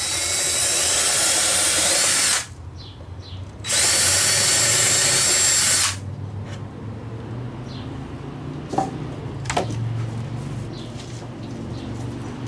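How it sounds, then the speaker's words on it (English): A power drill bores holes into a wooden drawer box in two loud bursts, separated by a brief pause and followed by quieter workshop handling noises and a few faint clicks, with birds cooing softly in the background. "So I'm going to drill a couple holes here and hope"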